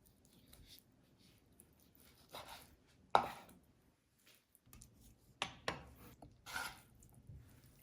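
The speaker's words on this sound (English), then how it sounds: "Slice into about a 1/4 inch thick pieces." A knife cuts steak into quarter-inch slices on a board, giving a handful of separate soft chopping thuds and scrapes spread out over quiet, close-up and fairly faint.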